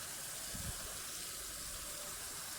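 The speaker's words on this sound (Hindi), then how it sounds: "अब मैं इस पे पानी डाल दूंगी।" Water gushes steadily into a pot of chicken and rice, a continuous broad pouring rush heard up close, with a brief low thump near the start before it cuts off abruptly.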